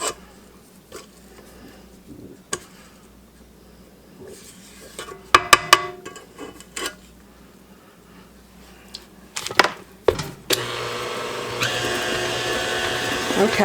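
An electric mixer beats toffee bit cookie dough in a home kitchen, starting after a quiet stretch of soft clinks and knocks, then running as a loud, steady whir through the final few seconds.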